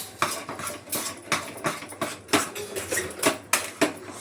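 Okra frying in a pan and turned with a spatula, giving a close run of repeated scraping and clattering strokes against the pan in an uneven rhythm, with a light frying hiss beneath and no talking.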